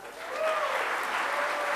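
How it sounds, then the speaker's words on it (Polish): An audience applauds the sound engineers at a live performance, a dense wash of clapping that swells in the first half second and then holds steady and fairly distant, with a faint tonal hum running underneath. "brawa dla akustyków"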